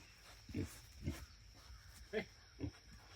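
Feeder pigs being moved out of a garden shed give several short grunts in separate bursts, close by, with background noise between them.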